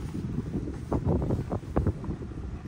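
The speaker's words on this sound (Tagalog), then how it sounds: "Lalakas ng hangin." Strong wind buffets the microphone in rough, gusting bursts during a snowstorm in Nebraska, loud and close with no other sounds over it.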